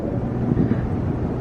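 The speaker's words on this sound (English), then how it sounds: "It's so windy today." Steady wind buffets the microphone, a dull low roar with no talking.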